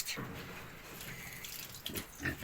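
Pigs in a summer pen drink from a water trough, with soft wet slurping and lapping plus faint grunts, quiet and close with no talk.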